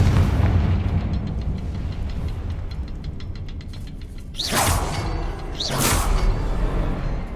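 Two booming spell explosions from the Confringo fire spell in the Hogwarts Legacy video game burst about a second apart over a low ambient game soundscape.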